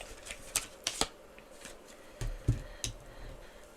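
Tarot cards are handled and shuffled up close, giving a few quick riffling bursts and soft slaps of the deck against a quiet background.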